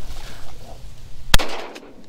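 A single sharp 20-gauge shotgun blast cracks out loudly amid a quiet snowy outdoor duck hunt, followed by a short fading echo.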